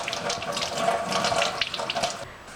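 A doll being rinsed under a running kitchen tap, water gushing and splashing steadily for a couple of seconds with slight shifts as the doll is turned in the stream, close by and with no talking.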